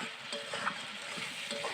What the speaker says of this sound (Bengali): মশলা থেকে তেল ছেড়ে এসে গেছে, আর একটু নেড়ে নেব